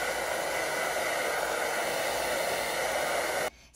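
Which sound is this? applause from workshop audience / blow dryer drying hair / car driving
blow dryer drying hair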